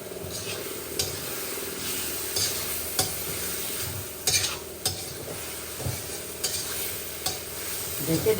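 Beef with a cumin and green chili paste is stirred and sizzled in a pan, with a steady frying hiss and repeated scrapes of the spatula close by.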